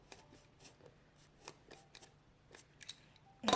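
A craft knife scores grooves into a soft kimekomi ornament ball: a run of short, light scraping cuts spaced irregularly and heard up close, ending in a sharper, louder scrape.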